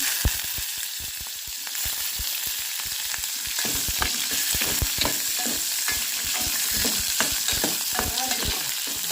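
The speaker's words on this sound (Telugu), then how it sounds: "ఇదైతే ఆయిల్లో ఫ్రై అవుతా ఉంది కదా" Tomatoes sizzle and spit in hot oil with a steady, dense crackle, while stirring adds intermittent scrapes and clicks close by. No one speaks.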